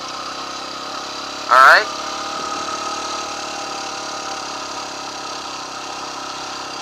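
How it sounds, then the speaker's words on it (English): A motorcycle engine idles steadily at a moderate level while a beginner learns to ride, with a brief spoken word near the start. "So now the bike's rolling on second gear."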